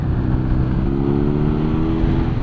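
A 2021 BMW R nineT motorcycle pulls hard in 4th gear from about 2,500 RPM, its boxer engine droning loud and close as the revs rise steadily, with wind noise throughout.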